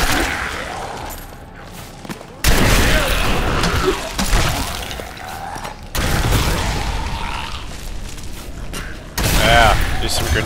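Grenade blasts in the Diablo 3 action game: loud booming bursts land in quick succession among dense combat noise, with a voice talking over the fight.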